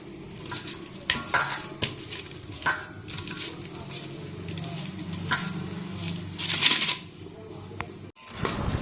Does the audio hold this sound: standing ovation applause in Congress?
no